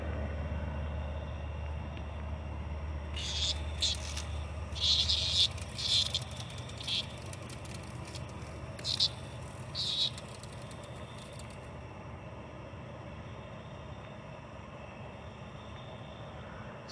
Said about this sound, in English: There's a cicada out here and one of my cats is trying to get it.